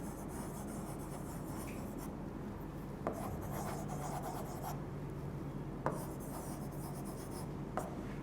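Pen or marker writing on a board or paper during a language lesson, a steady scratchy rubbing with a few sharp taps, heard alone over a noisy room hum.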